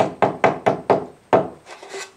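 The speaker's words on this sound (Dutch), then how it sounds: "En dan sla ik met de hamer" A hammer strikes wood about six times in an uneven rhythm while building a toolbox, each blow sharp and close. Softer scraping and tapping follow.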